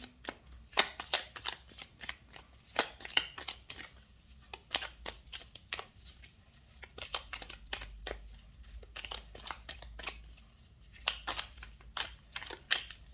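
A deck of tarot cards is shuffled and cut close by, giving rapid, papery riffling bursts and flicks that come in irregular clusters over thirteen seconds, soft and crisp with no voices.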